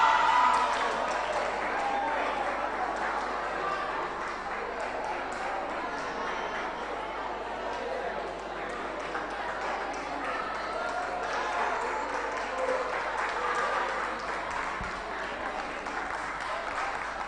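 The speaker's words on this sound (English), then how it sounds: "Please give him a round of applause." Audience applause at a UNIMED 10th anniversary event: a steady crowd clapping that holds at a fairly even level for the whole stretch.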